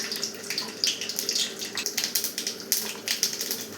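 Mustard seeds splutter in hot oil, a dense, continuous crackle of rapid little pops close up, with no voices over it.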